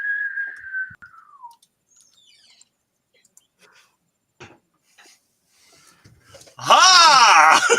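A voice imitates the falling whistle of an incoming mortar shell during a tabletop fantasy game session, a loud, wavering swoop near the end that comes after quieter talk and a softer descending whistle at the start.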